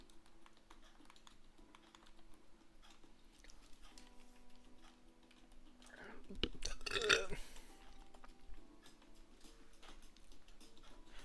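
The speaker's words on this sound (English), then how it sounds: "now that I keep burping" A man lets out a low, close burp after a lamb dinner, one prominent belch rising briefly out of a quiet room with faint keyboard tapping and clicks around it.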